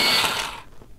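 A black grape coloured pencil in a sharpener, a short close grinding whir that fades out after about half a second.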